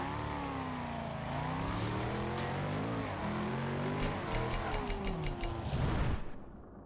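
A car engine in a street-racing video game revs and shifts through rising and falling pitch while drifting, with a burst of rapid clicks and a tire squeal near the end before it fades, loud and continuous.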